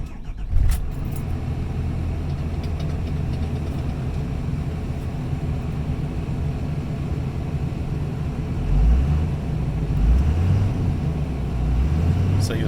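A Ford Super Duty diesel truck with compound turbos cranks and starts with a sharp burst, then settles into a loud, steady idle, and the engine revs up and falls back a few times near the end.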